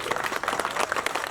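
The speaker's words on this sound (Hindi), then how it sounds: "एक बार हम खड़े होकर जोरदार तालियों से स्वागत" A standing audience claps loudly and steadily in welcome for a BJP national general secretary arriving at a political gathering at Parivartan Chowk, Najafgarh, with the dense applause continuing without a break.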